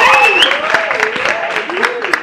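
A school audience applauding a student, clapping carried under a host's voice and a singing tone.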